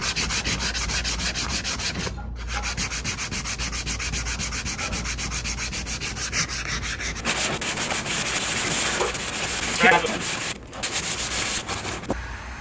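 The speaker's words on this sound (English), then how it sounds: "All right, so now we're done with the 220 sandpaper." Hand sanding with 220 grit sandpaper smoothing a repaired kayak keel, a steady scratchy rubbing that runs almost continuously, growing rougher and louder in the later strokes with a couple of brief stops.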